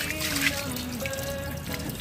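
Water trickling and draining out of rain-filled flower pots in a kitchen garden after heavy rain, a close, steady dribbling pour with faint tonal gurgles, no speech.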